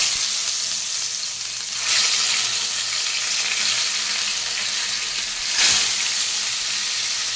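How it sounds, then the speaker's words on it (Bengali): Fish rubbed with salt and turmeric fries piece by piece in hot oil, a loud, continuous sizzle and hiss that swells briefly twice, with no voices over it. "এবার মাছটাকে আমি ভেজে নেবো। আগে মাছগুলোকে আমি এক এক করে ভেজে নিচ্ছি।"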